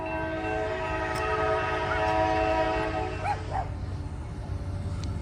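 A train rolls by on Ohio tracks with a long, loud horn blast held steady over the deep rumble of the cars, tapering off as the wheels keep clattering.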